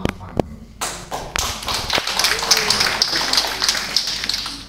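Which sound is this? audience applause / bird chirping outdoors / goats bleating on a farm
audience applause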